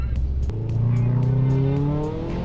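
A Subaru Forester SG5 revs hard with its wheels spinning for grip, the engine note climbing and holding loud and close before easing off.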